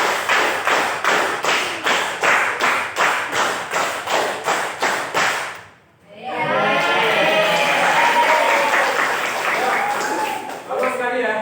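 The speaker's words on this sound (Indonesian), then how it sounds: "tepuk tangan 5 kali." A class of students clapping in unison, claps landing in a steady rhythmic series of sharp, evenly spaced beats, followed by a burst of mixed chatter and voices after a short pause.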